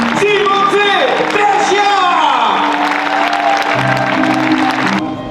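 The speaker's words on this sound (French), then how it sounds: "Encore, s'il vous plaît, des applaudissements pour la légende de l'ADA" Crowd applause and cheering at a basketball celebration honoring a longtime Blois club player, sustained and loud for about five seconds, with whoops and shouts mixed in and an announcer's voice over the top.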